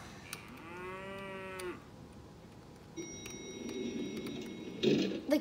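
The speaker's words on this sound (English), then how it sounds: "It's this cow!" A cow lets out one drawn-out moo up close, followed by a steady ticking and a rising, muffled rumble.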